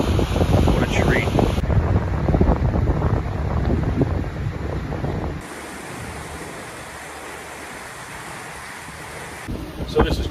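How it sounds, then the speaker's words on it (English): Strong wind gusts of about 20 mph buffet the microphone aboard a boat on the Intracoastal Waterway in loud, rough gusts, then ease to a quieter steady rush before picking up again at the end. "We got like 20-mile-an-hour wind gusts now"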